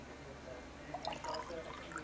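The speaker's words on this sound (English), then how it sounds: "7 centimeters of water into the test tube." Water is poured into a test tube for a salt-water electricity experiment, giving faint trickling and small splashing sounds over a quiet room hiss; the sound stays soft and close throughout.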